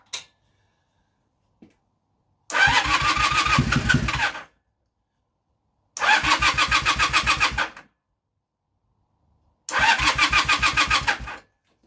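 A Honda Super Dream motorcycle with a dry carburettor cranks over in three separate bursts of about two seconds each, the starter churning rapidly and close without the engine catching, with silent pauses between attempts.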